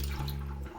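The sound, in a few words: water being dumped out of a pot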